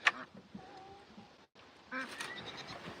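Ducks on a farm quack a few times nearby, with short honking calls amid faint background noise and a brief pause midway.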